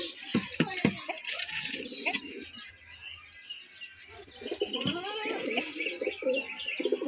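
Giribaz pigeons coo in a wooden or bamboo loft in Rajshahi, with soft repeated throaty coos and a few chirps close by, under faint background noise.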